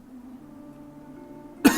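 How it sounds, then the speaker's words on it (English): A single short cough bursts out at the end of a quiet stretch of faint low hum, loud and close to the microphone, from a person commenting on a strategy game. "Sorry for the cough."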